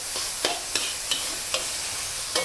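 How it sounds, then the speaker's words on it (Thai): Minced pork and basil leaves stir-fried over high heat, a steady sizzling hiss with sharp spatula scrapes and taps about every half second, close and alone without speech. "ผัดต่อค่ะ ผัดให้ใบโหระพาสุกนะคะ"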